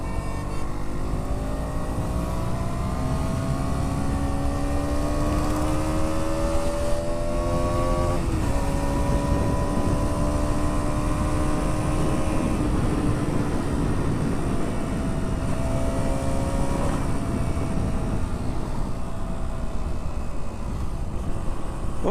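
KTM Duke 125 motorcycle engine pulling hard through the gears, rising buzzy exhaust note with quick drops at each upshift, loud and continuous under steady wind rush.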